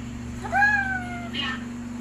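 One cat meow rises and then falls over about a second, with a faint second call after it. A steady low electrical hum runs underneath throughout.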